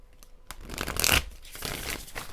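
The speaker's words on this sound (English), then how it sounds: "let's shuffle and get some more cards" Tarot cards being shuffled by hand: a few quick riffles and flicks, with one louder burst of rapid card slapping in the middle, close and fairly soft, without talk.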